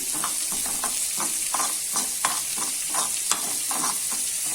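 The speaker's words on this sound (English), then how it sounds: "we will just roast the sesame seeds a little" Sesame seeds roast in a pan on reduced heat with a soft, steady sizzle, while a spoon stirs and scrapes through them in a quick, regular rhythm, close and fairly quiet.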